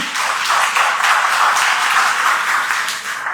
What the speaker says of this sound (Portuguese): Aplauda Ele.